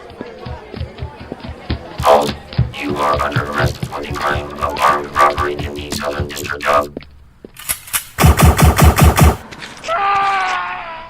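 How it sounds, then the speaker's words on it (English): Sci-fi laser weapon blasts in an audio drama, a busy run of rapid zapping shots and bursts, then a tight loud volley of repeated pulses near the end before a sustained tone, all loud and close. "That laser just turned that guy into dust."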